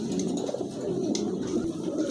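Pigeon cooing at a bird seller's coop: soft, low, rounded coos repeating under a steady hum of room noise, fairly faint and close, with no one speaking.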